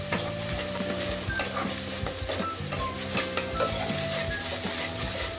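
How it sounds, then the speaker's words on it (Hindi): Masala with ginger and garlic paste frying for rohu fish curry, a constant loud sizzle with rhythmic scraping and stirring strokes against the pan, close up and without speech. "ये डाल के मसाला को अच्छे से भूनना है हमें"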